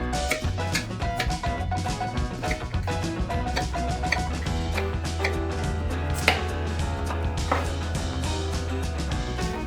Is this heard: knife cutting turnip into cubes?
yes